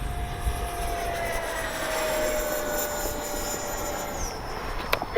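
An E-flite 70mm Viper RC jet flies at full speed into the wind, a faint, distant whining ducted-fan drone holding steady with a slowly falling tone as it passes.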